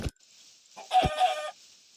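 A Minecraft chicken gives a short burst of clucking, a drawn-out nasal call close by, with a brief click beforehand and a soft thump partway through.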